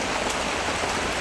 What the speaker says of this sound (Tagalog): Daming ulan.